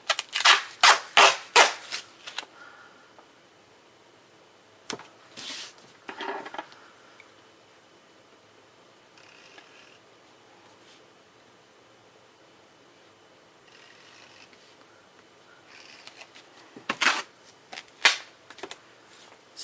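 Duct tape being cut into pieces for wallet pockets: a quick run of sharp rasping snips and tears at the start, scattered softer rustles and handling noises, then another short burst of tearing near the end.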